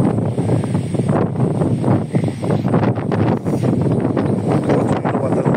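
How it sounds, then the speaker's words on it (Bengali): Strong cyclone wind buffets the microphone in a continuous loud roar with gusty surges, out in an open field where sheep are grazing during the storm. "ঘূর্ণিঝড়ের প্রভাবে বাতাস অত্যন্ত বেশি"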